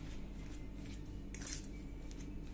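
Potato stuffing mixed with spices in a bowl, with soft clinks and scrapes of a utensil against the dish over a steady low background hum.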